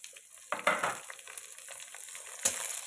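Chopped tomatoes tipped into a pan of green chilli liver (hari mirch kaleji) frying on the stove, a soft thud and stir followed by a steady close sizzle, with a second clatter near the end.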